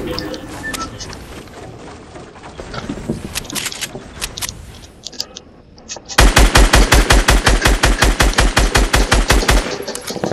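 Video game gunfire starts with scattered shots amid background noise, then becomes a loud, rapid automatic burst of evenly spaced shots lasting several seconds.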